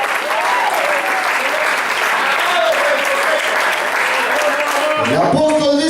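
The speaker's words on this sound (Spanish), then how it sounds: "Denle un fuerte aplauso al Cristo de la gloria" Congregation at a church service applauding, a broad wash of clapping that carries on steadily at a strong level and sits alongside a voice and sustained tones that come and go.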